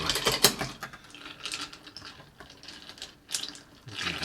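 A strawberry basil caipirinha is churned and stirred in a glass, making close, irregular clinks, scrapes and rattles of ice and a tool, moderately quiet and with no speech.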